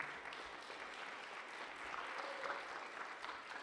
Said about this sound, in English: Let's give a nice round of applause for our board president.